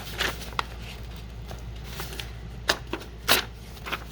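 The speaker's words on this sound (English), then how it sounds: "And then I'm going to tear this part out." Paper pages torn out of a book being altered: a series of short, dry ripping and crinkling bursts, irregular and close, with quiet gaps between them.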